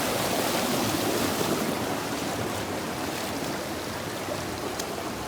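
Swollen Jamaican river rushing after heavy hurricane rain, a loud, dense, continuous roar of flood water close by, unbroken throughout with no voices.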